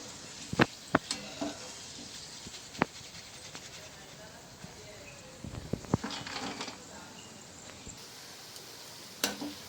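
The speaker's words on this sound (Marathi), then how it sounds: "आपण खोबरं तळण्यास घातलं आहे" Coconut pieces fry in oil, a faint low sizzle with scattered sharp clicks and taps of stirring, some louder knocks near the start and end.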